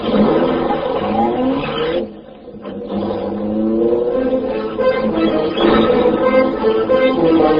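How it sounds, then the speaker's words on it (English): The Black Beauty car's engine roars loudly and steadily, briefly dropping before surging again with a deep, rumbling growl. "The great car roared into life."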